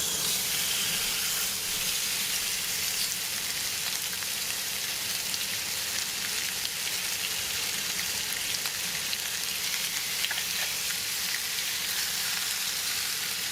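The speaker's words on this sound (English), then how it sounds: "let me go ahead and place this down and enjoy the sizzle and the music" Chicken sizzles and hisses steadily in a hot pan for a Mexican dinner recipe, a close, continuous frying crackle with no talk.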